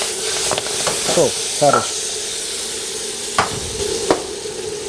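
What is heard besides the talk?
spinach sautéing in butter in a pan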